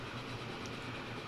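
Trains running on rails in Transport Fever 2, a steady, faint wash of rolling wagon noise with no distinct clacks and no talking.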